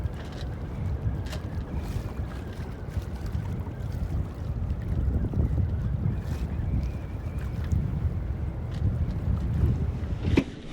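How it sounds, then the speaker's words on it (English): Gusty katabatic wind of 15 to 20 knots buffets and rumbles across the microphone on a sailboat anchored off Santa Rosa Island, a constant low roar punctuated by occasional creaks and knocks. "It's blowing, I don't know, 15 to 20 right now with the katabatic winds."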